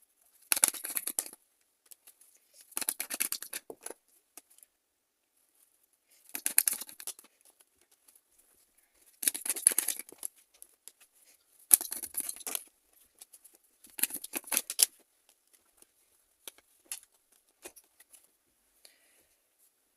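Tarot cards shuffled and laid out in six or seven short bursts of dry riffling and papery slapping, each a second or so long and separated by quiet gaps, close and fairly soft with no talking.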